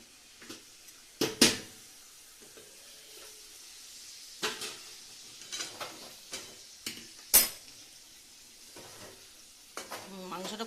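Meat braises in a kadai over a gas flame, with a soft sizzle under scattered clinks and scrapes of a spoon stirring against the pan, coming in short irregular bursts close by.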